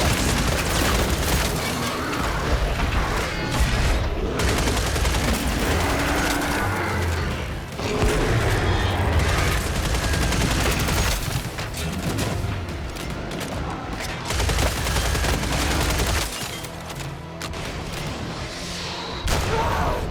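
Enemy gunfire in the video game Killing Floor 3, loud and sustained with dense booming bursts and rapid shots over a constant chaotic game mix, with brief dips in intensity.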